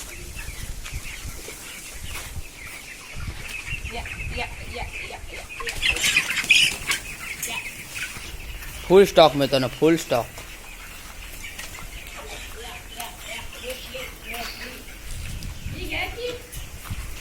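An English hen squawks and flaps its wings in a sudden loud flurry while being caught, with scattered clucking from other birds and someone talking throughout.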